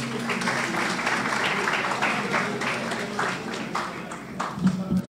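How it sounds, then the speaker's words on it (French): A crowd applauds steadily for several seconds, a dense wash of clapping that thins slightly toward the end. "Sous vos applaudissements, s'il vous plaît."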